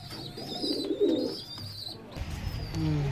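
Three fancy pigeons, Pakistani show breeds kept in a loft, give soft low coos up close, a sustained murmuring call with faint chirps in the background.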